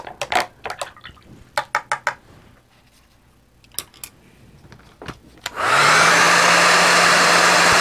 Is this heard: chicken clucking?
no